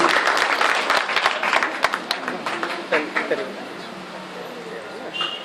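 Clapping from a gathered audience at a community association meeting welcomes a guest, starting strong with an announcer's voice over it, then thinning into scattered claps and fading out.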